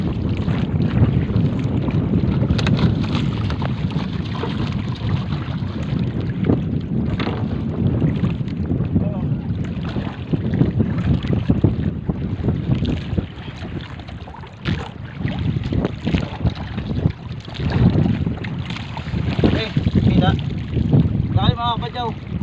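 Strong wind buffets a small fishing boat at sea on rough waves, roaring steadily and loudly throughout with constant gusty rumble and splashing; faint voices sit under the noise.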